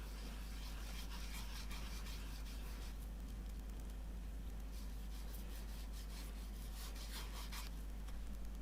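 Saphir Reptan cream rubbed by finger into snakeskin shoe leather, a soft continuous close-up scrubbing and rasping over a steady low hum.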